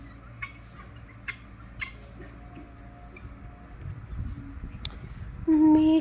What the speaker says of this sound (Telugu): ఇక్కడ గిన్నె కోళ్ళు ఉన్నాయి